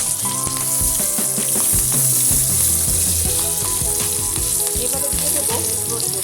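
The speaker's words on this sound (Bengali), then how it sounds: "এবার তেল গরম হলে ফোড়নগুলো কড়ার মধ্যে দিয়ে দেব।" Whole spices, dried chillies and black cumin crackle and sizzle loudly in hot oil in a wok, a dense, continuous frying hiss with no talking.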